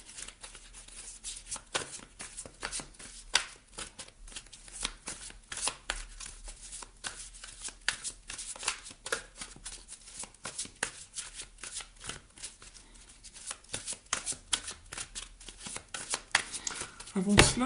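Tarot cards being shuffled, a continuous quick riffling with sharp papery slaps and clicks, close and fairly quiet, with a voice speaking over part of it.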